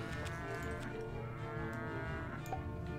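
Cows low repeatedly in the Rock of Ages 2 video game, long resonant moos overlapping against a dense droning game backdrop, steady and fairly loud throughout.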